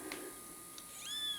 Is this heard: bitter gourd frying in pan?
no